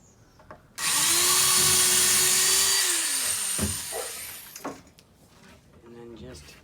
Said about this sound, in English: I'm going to pre-drill a little further.